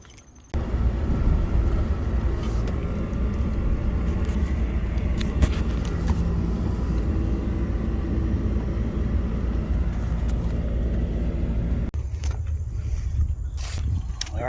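A vehicle towing a trailer drives across the street with a steady, loud engine rumble that continues close by throughout and eases near the end, with no talk.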